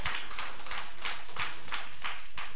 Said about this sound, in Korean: 한번 다시 한번 쳐드려 영광의 박수를.